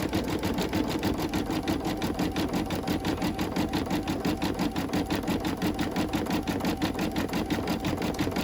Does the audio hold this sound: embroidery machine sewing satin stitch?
yes